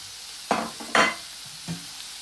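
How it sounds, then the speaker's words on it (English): Spices and chili flakes hitting a hot pan for shakshouka, two quick bursts of sizzling close up followed by a softer third fizz, with a quiet background and no talking. "We're going to let this fry off."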